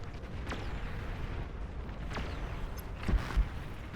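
Artillery fire from a Tremor heavy artillery unit in the strategy game Beyond All Reason, an 8v8 match: several booming shots and distant impacts over a steady low rumble of battle, with two heavier thumps near the end.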